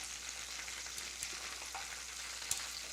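Thin pieces of baccala cook in sauce in a pan, giving a steady, quiet sizzle and bubbling hiss throughout with an occasional small pop.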